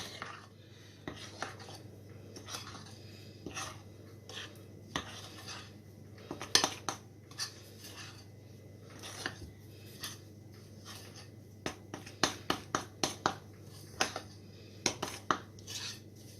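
Algerian cookie dough being mixed with a spoon in a bowl, with scattered metallic scrapes and clinks, quiet and close, growing into quicker clusters of clicks toward the end.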